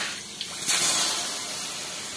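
A hot forged knife blade is quenched, giving a loud close hiss and spray of boiling water and steam that swells suddenly and then settles into a steady sizzle.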